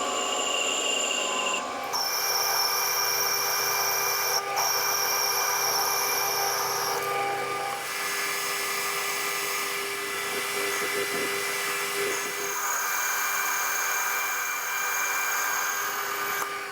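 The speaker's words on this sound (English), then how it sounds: "I'm just going to put a little groove in here" A machine cuts a groove into a Yanmar excavator pin or bush with a high, whining, drill-like screech. It breaks off briefly and restarts several times, then keeps grinding at a steady level throughout.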